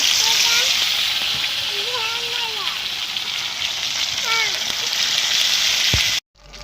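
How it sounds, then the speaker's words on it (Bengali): Loud, steady hiss and crackle of tilapia frying in hot oil in a pan, continuous throughout, with a voice talking faintly underneath before it cuts off at the end. "তেল দিয়ে দিলাম। তো মাছগুলো আমি ভেজে নেব"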